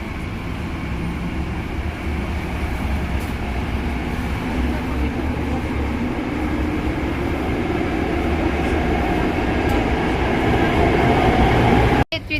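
A metro train in Athens rumbles and rattles steadily along the tracks with a dense, continuous roar, heard from inside the carriage for the whole stretch, ending in a sharp knock.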